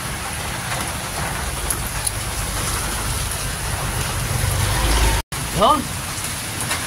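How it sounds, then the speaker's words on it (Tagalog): Heavy typhoon rain pours steadily in Leyte, a dense, loud hiss that continues throughout, with a brief word spoken over it near the end. "dito sa Leyte, kagabi pa bumubuhos ang ulan"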